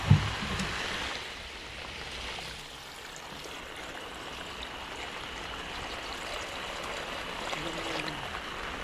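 Water poured into a cooking pot while making a home-cooked dish, a steady rushing, splashing stream running for several seconds at moderate loudness, with no talk over it.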